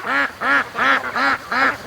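Domestic ducks on a lake, a bunch that has been fishing for minnows, quack five times in quick, evenly spaced bursts, close and loud with no talking.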